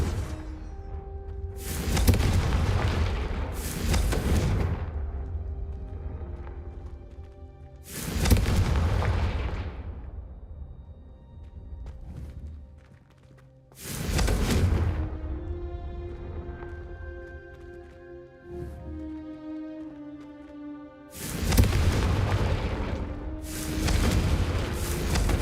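Confringo fire spells explode in Hogwarts Legacy: five or six loud booming blasts spaced a few seconds apart, each decaying into a ringing tail over faint background music.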